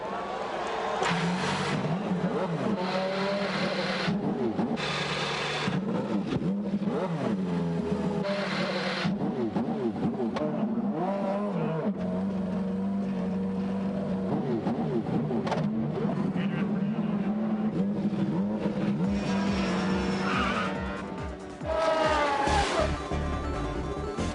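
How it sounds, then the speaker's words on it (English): IndyCar race car engines start and rev at the 1997 Toyota Grand Prix of Long Beach, a dense, continuous roar of many engines that holds loud throughout with shifting revs. "Gentlemen, start your engines."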